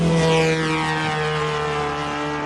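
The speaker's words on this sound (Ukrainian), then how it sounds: "це безпілотник" An unmanned aerial drone flying overhead gives a loud, continuous propeller buzz that drones steadily and shifts slightly in pitch as it passes, heard alone without talk.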